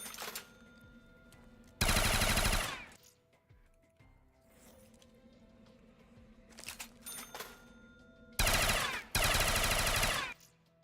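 RPD machine gun in a zombies-mode video game firing in two loud, sustained full-auto bursts, each lasting under a second to about two seconds, with a quieter stretch of low game ambience in between.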